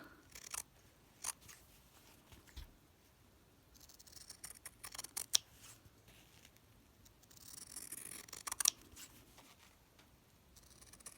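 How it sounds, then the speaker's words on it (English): Sharp fabric scissors snip around a hand-stitched scrap-fabric bookmark, delivering a run of close, crisp cuts in irregular bursts with short pauses between, no voice present. "this is where the nice sharp fabric scissors definitely come in"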